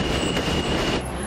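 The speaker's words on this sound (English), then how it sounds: "I use a subway to get to work." A subway train rolls loudly and close by, a steady broadband rumble of wheels on rail with a thin high whine running through it, continuous over the short stretch.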